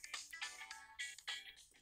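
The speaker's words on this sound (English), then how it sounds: "Yeah, that's my phone." A mobile phone ringtone going off nearby during a home recording session, a bright repeating electronic melody in several short loud bursts with no talk over it.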